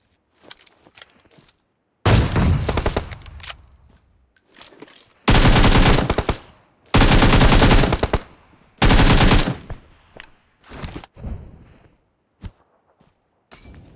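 Automatic weapon fire in PUBG Mobile, several loud close bursts of rapid shots separated by short pauses, with scattered single shots and quieter clicks between.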